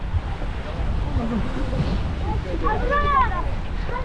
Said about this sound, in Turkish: rüzgar gelmeye başladı.